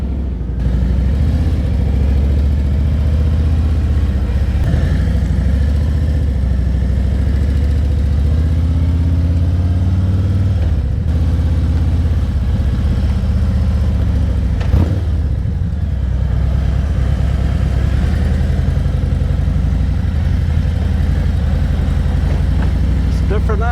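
A Harley-Davidson motorcycle engine runs steadily and loudly up close for the whole stretch, a deep continuous rumble with slight changes in pitch, while people talk faintly underneath.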